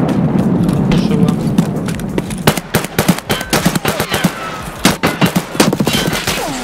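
Rapid bursts of gunfire in Escape from Tarkov, loud sharp shots in irregular clusters and quick runs, close and dominant, with a player's voice briefly under the noise.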